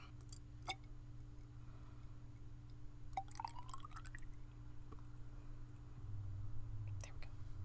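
Vinegar of 5% acidity is poured briefly into a container, giving a faint, close trickle with a rising tone, while a voice whispers softly around it.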